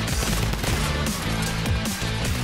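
Rapid automatic gunfire from a bot in a video game, dense and continuous bursts mixed with game sounds and music throughout.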